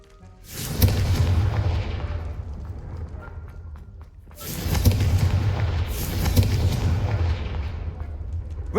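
Confringo blasting-curse explosions in the Hogwarts Legacy video game: two or three loud, deep booming blasts with broad crackling rumble that decays over a few seconds, no speech over them.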